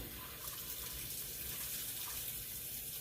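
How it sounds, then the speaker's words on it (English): Water sloshing and rushing steadily inside a Whirlpool HE washer as it fills, a continuous close wash of liquid noise with no voices. "you can hear the water sloshing around"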